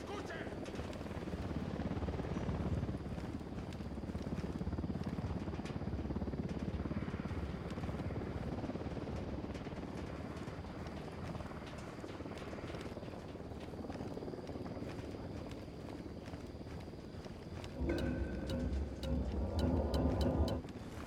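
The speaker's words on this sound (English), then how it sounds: "Chopper's approaching." A steady, rumbling helicopter drone fills the scene in Ghost Recon Wildlands, rotor noise holding constant, with a burst of other game sounds and chatter near the end.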